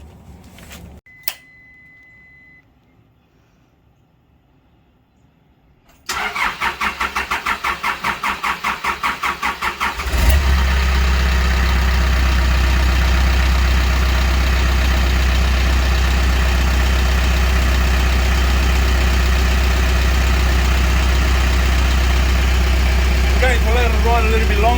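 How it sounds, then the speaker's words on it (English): A New Holland B115B backhoe engine cranks with a rapid rhythmic churning, catches, and settles into a loud, steady diesel idle that runs on unchanged, after a quiet opening with a couple of faint clicks. "So we're going to start the machine and let it run for another minute or two"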